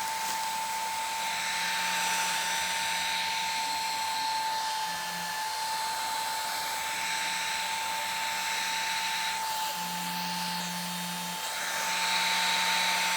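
A steady, loud turbo electric fan running at full speed, a drone with an airy whoosh and a constant hum, running continuously without pause.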